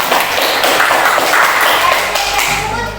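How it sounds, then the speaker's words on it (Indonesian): A class of students clapping together in an Indonesian-language lesson, a dense, steady wash of applause lasting a few seconds and easing off at the end. "Oke, tepuk tangan untuk kita semua."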